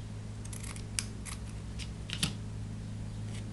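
Scissors snip through fabric ribbon while a gift tag is being made, giving a few sharp, close cuts spaced irregularly over a steady low background hum.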